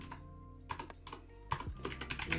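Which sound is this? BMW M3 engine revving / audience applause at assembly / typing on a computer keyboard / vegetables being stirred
typing on a computer keyboard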